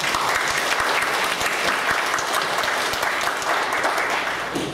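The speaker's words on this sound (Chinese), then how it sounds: "我们是不是先以掌声来欢迎？" An audience at an academic statistics lecture during a summer camp applauds steadily to welcome the speaker, a sustained, dense round of clapping from a large crowd with no speech over it.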